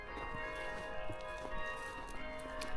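Church bells ring faintly in the distance at Morgins in the Portes du Soleil ski area, with steady ringing tones under broad outdoor noise.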